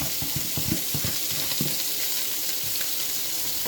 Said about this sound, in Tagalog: Lagay na natin yung ating sibuyas. Ayan. At ating luya na ubod ng dami.